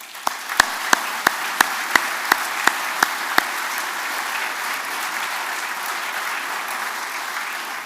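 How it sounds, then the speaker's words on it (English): A room full of people at an annual general meeting gives sustained applause, with dense, even clapping throughout and a few sharp, louder claps standing out near the start. "Give them some applause."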